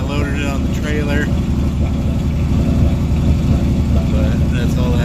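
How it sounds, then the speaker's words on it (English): Idling 1965 Mustang fastback with a 289 V8 and a slightly rattly exhaust from a broken hanger, a continuous close low engine drone with a faint buzzing rattle underneath and someone speaking briefly over it. "The exhaust is a little rattly."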